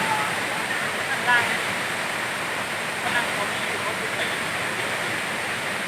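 Ton Sai waterfall pours down in a steady, loud, broad rushing roar heard up close, continuous throughout with no pause.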